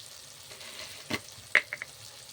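Masala spice paste frying in a pan for a banana-flower kofta curry, with a low steady sizzle broken by a few sharp scraping clinks as it is stirred, close and moderately loud.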